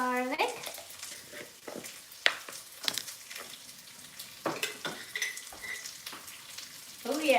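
Garlic frying in a pan for dahl sizzles softly and unevenly, with stirring scrapes and occasional sharp clinks of a utensil against the pan.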